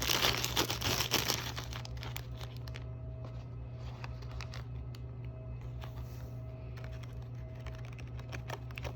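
Crinkling of a plastic baggie while sodium bicarbonate is added for a sunset-in-a-bag experiment, a dense burst of rustling in the first seconds, then lighter scattered crackles over a steady background hum.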